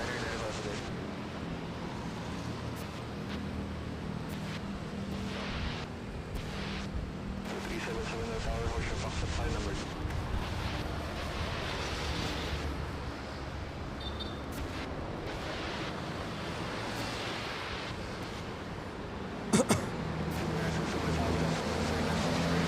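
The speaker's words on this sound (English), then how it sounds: "we really hear the engines" Airliner jet engines roaring during takeoff from runway 24 at Manila's Ninoy Aquino International Airport, a steady, loud broadband rumble lasting throughout with a brief sharp spike near the end, under occasional talk.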